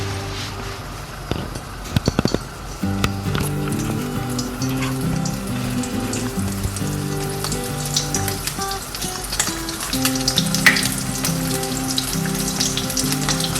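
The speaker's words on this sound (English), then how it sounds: "I've just dropped a little bit of falafel into the hot oil." Falafel pieces fry in hot oil with a steady, dense crackling sizzle, close and continuous, marked by a few brief clinks near the start and no talking.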